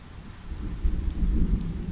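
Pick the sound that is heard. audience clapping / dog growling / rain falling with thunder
rain falling with thunder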